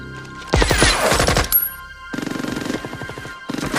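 Widowmaker's sniper rifle firing in Overwatch on Junkertown, loud sharp rapid bursts of shots separated by brief silences, with a tonal ringing effect running through the fire.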